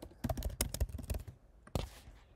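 Quick keystrokes on a computer keyboard enter a name, a close, fairly quiet run of about a dozen taps followed by a brief pause and one or two final presses.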